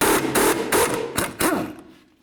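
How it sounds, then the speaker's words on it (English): Wrench turning a nut off the rear strut bolt of a 2007-17 Jeep Compass while the bolt is held from behind, giving a few sharp metallic clicks and knocks close by, then fading out. "I'm going to hold the bolt from the backside and then remove the nut"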